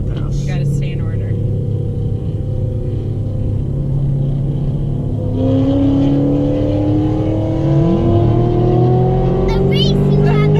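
A Dodge Challenger drives laps on the Texas Motor Speedway, with a steady, loud engine drone heard from inside the car and a rising pitch as it speeds up. People talk over the engine noise.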